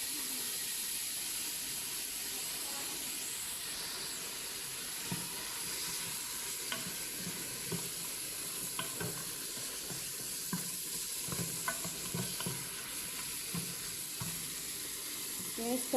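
Spices fry with a steady, soft sizzle in a pan for mutton varuval, with intermittent scrapes and taps of stirring, moderately quiet and close.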